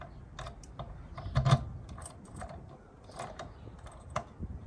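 Stainless steel catches on a 3mm aluminium sheet storage locker on a Land Rover Defender give soft metallic clicks and rattles, with one sharper clack among a few quieter knocks, close by and with no talk.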